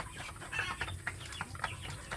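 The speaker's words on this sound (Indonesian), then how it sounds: "Ini saya memvideokan untuk ayam kampung saya sedulur ya" Free-range village chickens clucking at morning feeding time on a small farm, repeated short clucks near and moderately loud over a low background murmur.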